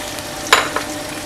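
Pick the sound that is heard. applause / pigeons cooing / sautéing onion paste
sautéing onion paste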